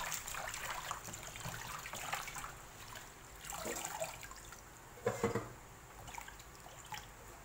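Bắp greens (banana blossom) being rinsed by hand in water, with uneven splashing and trickling that rises and falls, including a brief louder slosh, close by with no talk.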